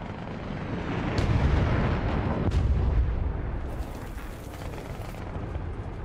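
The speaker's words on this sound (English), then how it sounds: "our guys lucked out and withstood a bomb blast there" A deep rumbling bomb blast in the War Thunder tank game, a heavy low boom swelling and fading over several seconds, with a few sharper cracks of distant gunfire layered in.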